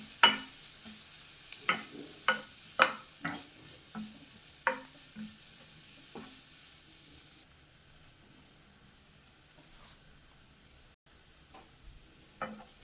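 Masala being stirred and sautéed in a pan for a soya dish, with a series of sharp spoon scrapes and taps over a quiet sizzle, busier at first and then thinning to soft frying.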